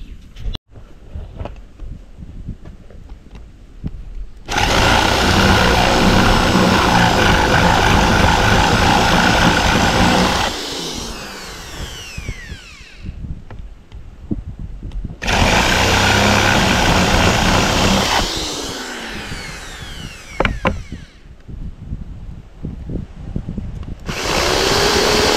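A power drill enlarging a screw hole on a chicken and goat house runs in two long loud whirring bursts, each winding down, separated by quieter handling noise, close up.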